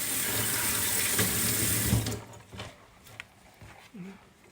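Kitchen tap water runs steadily over fresh coriander being washed, a loud close splashing stream that stops after about two seconds, followed by faint handling sounds.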